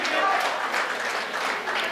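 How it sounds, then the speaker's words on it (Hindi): Audience at an all-India mushaira poetry gathering in Jaunpur applauds, a dense, sustained wash of many hands clapping together, loud and continuous with a faint crowd murmur underneath. "एक बार ताली बजा के मुझे आदेशित कर दीजिए।"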